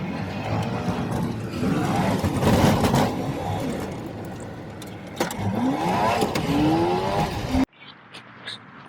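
A car drives along a road past a campground near woods, its engine droning steadily with a couple of rising revs and passing road noise before cutting abruptly to near quiet.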